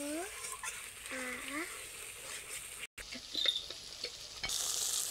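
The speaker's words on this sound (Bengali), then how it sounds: "তাহলে কিন্তু মশলাটা প্রায় ভাজা ভাজা হয়ে এসছে" Steady sizzling of a spice paste of onion, tomato, ginger and garlic frying in a pan, with occasional scraping of a spatula, under a person speaking.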